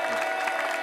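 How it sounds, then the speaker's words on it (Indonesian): Brief burst of dense audience applause from a crowd at a talent show, steady clapping filling the moment without a pause. "Nur Tijel kasih tepuk tangan, kasihan anaknya."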